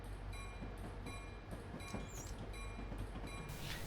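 An SD40-2 locomotive in a train simulator game slows under braking, a steady low rumble of wheels and rail noise with faint high squeals and hiss, ending in a brief burst of air.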